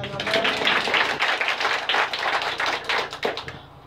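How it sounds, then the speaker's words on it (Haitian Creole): A church congregation clapping hands in praise, a dense, loud, rhythmic clapping that continues steadily, with voices mixed in throughout. "Applaudissez le Seigneur."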